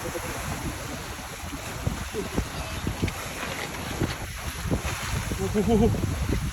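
Heavy surf crashes on rocks on the coast at Liloy, roaring continuously, waves surging and breaking with a rough, churning wash, while wind buffets the microphone throughout.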